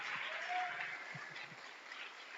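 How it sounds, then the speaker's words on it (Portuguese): A church congregation at a worship service claps in a soft, diffuse wash of applause, with faint voices and a few low thumps underneath. "Vamos aplaudir a Ele porque Ele merece."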